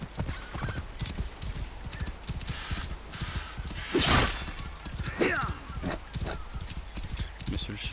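Horse hooves clip-clop steadily in Assassin's Creed Origins, with a loud whinny at about the midpoint and a second shorter neigh soon after, beneath intermittent game sounds.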